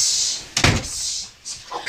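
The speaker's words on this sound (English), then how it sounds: "Wait, this got to be top secret, so close the door right over there." A door closing indoors, a single short thud with a brief rattle around the middle, set against a steady background hiss.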